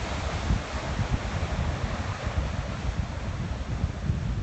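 Sea waves and wind at an open-water triathlon swim off the beach at Calella, Spain: a steady, dense wash of surf and gusting wind noise throughout, with no voices.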